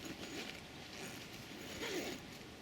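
A tent door zip is pulled along its track on a wild camp, a close, fairly steady rasping whir lasting a couple of seconds with slight variations in pace and no speech.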